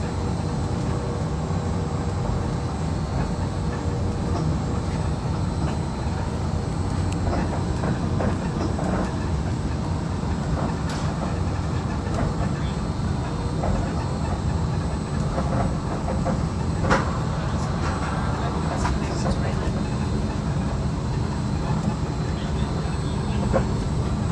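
The Disneyland monorail in Anaheim rumbles continuously from inside the car between Downtown and Tomorrowland, a steady loud drone with faint rattles and occasional clicks, with a recorded narration voice faintly audible beneath.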